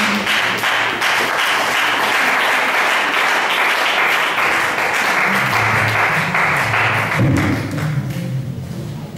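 A church congregation applauds steadily and loudly, a dense wash of clapping with some thumps that carries on for several seconds before tapering slightly.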